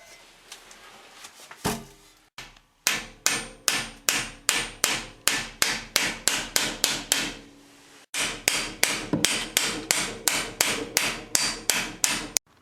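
A heavy hammer strikes a Porsche gearbox to loosen a stuck screw, delivering a long run of loud, sharp metallic blows in a steady rhythm, close up, broken by one short pause.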